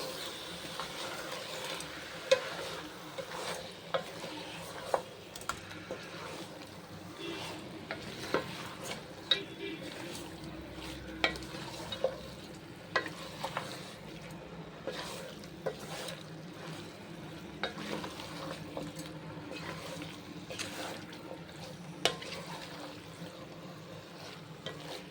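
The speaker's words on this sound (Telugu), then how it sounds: "ఇది బాగా మంచిగా మిక్స్ చేసుకోవాలి." Chicken gravy curry being stirred in a pan after salt is added, with steady scraping and clinking strokes over a soft, continuous sizzle, close and fairly quiet throughout.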